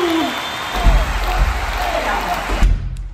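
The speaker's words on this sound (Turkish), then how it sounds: "Alkışlarla onu içeri alıyoruz." Applause welcomes a jury member at a doll hairstyling challenge, a short burst of clapping with a few heavy thumps under it before it cuts off sharply near the end.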